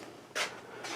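A small drawer in a wooden bedside caddy of lacquered and shellacked African mahogany slides open. Two soft, close sliding scrapes, heard alone and fairly quiet.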